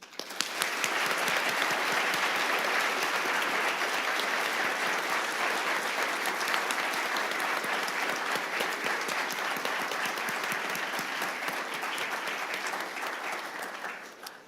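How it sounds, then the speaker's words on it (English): Audience applause at an interfaith service on caring for the environment, held at USD. Steady, dense clapping fills the room for about fourteen seconds at a sustained level, then tapers slightly at the end. "I ask you to please join me in extending a very warm round of applause to all of our presenters, prayer readers, and musicians"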